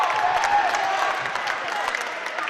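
A high school basketball crowd at Nashua North versus Moore Catholic claps and cheers after a spin move off the glass, a dense, steady roar of applause that fills the gym, with a whistle-like tone early on.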